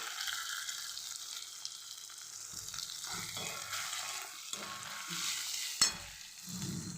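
Poha with turmeric and coriander being stirred in a frying pan, a steady soft sizzle with intermittent scraping stirs and a small clink, close and quiet.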